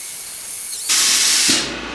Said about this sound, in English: just letting the air compressor fill up